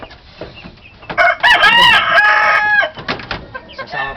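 A young fighting rooster crows loudly up close, with clucks and short calls before and after the crow, outdoors on a farm with no speech.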